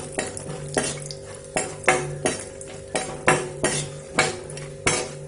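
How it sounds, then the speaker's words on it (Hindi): Coconut lightly roasting in hot ghee, with a spoon scraping and clinking against the pan in a steady rhythm of about two strokes per second over a soft sizzle. "हल्का सा भून लेते हैं नारियल को।"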